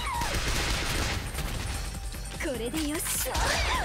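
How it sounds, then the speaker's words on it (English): Burst gun firing in School Girl Zombie Hunter, dense rapid shots packed into a loud continuous clatter, with a voice talking over the gunfire. "this is a burst gun"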